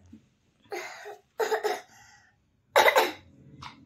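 A child coughs several separate times, close and fairly loud, with short pauses between them and a quieter catch at the end.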